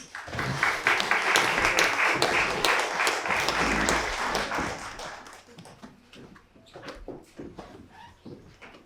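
A crowd at a formal awards ceremony applauds the arrival of the Government Commissioner with loud, dense clapping that fades after about five seconds into scattered claps and a few knocks.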